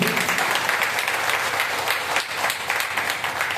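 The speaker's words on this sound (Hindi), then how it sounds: "प्रवीण कुमार जैन जी के लिए मैं एक बार चाहूंगा जोरदार दिल से तालियां होनी चाहिए" An audience claps loudly and continuously for a company director, Praveen Kumar Jain, a dense, sustained wash of many hands with no pauses.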